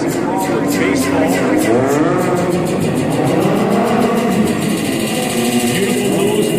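A stunt motorcycle engine revs and pulls away at the 2014 Calgary Motorcycle Show. The loud, sustained whine rises and falls in pitch as the rider works the throttle, with an announcer talking over it.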